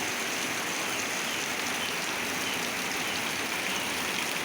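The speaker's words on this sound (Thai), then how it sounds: "ฝนตก" Steady rain pours down in a dense, even hiss that fills the scene without a break, with no voices; the first heavy rain of the year in Thailand.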